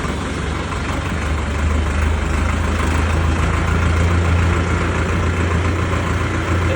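A tractor engine runs steadily at idle nearby, stuck in a crowded market street in Barnala, Punjab, a loud, constant low rumble with a droning hum.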